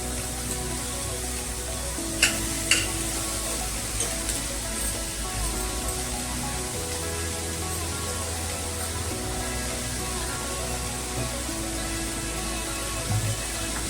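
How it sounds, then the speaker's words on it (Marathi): Onion sautés in a pan for a guar bean sabzi, a continuous soft sizzle and watery hiss running evenly throughout with a few light utensil taps early on. "आपण हा कांदा आता परतून घेऊया"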